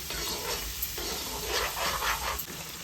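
Jackfruit seed curry is stirred in a pan with a steady scraping and stirring sound over a soft background sizzle, close and continuous.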